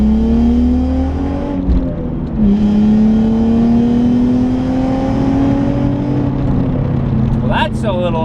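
A Nissan car with a VQ V6 engine and 6-speed manual accelerates hard, the engine note climbing steadily through a gear with a brief dip at a shift, loud and close, with a voice speaking over it.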